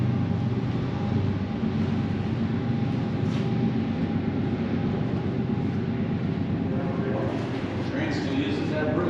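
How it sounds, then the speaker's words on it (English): A train rumbles over a bridge, a continuous low roar with faint metallic clatter, steady and moderately distant throughout. "Train still uses that bridge, huh?"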